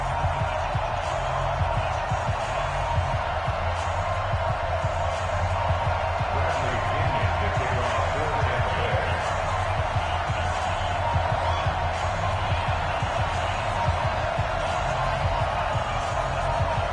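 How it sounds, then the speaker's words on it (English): A stadium crowd in an NFL video game, Carolina Panthers against Tampa Bay Buccaneers, roars in a steady, dense wash for the whole stretch, loud and continuous, with a commentator's voice faintly mixed in. "This crowd is ready as their guys get set to match up"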